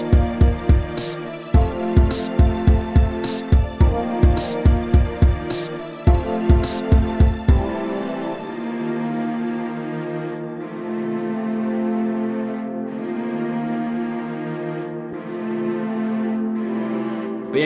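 A transition in a hip-hop beat, from the 2B section to the outro. Punchy, thumping drum hits over chords give way after about eight seconds to soft, sustained pads without drums, and nobody talks.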